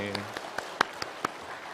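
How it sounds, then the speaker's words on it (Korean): A few scattered hand claps from a church congregation welcoming a newcomer during a Sunday service, sparse and fairly close, sounding alongside a speaking voice. "우리 박수로 좀 환영하겠습니다"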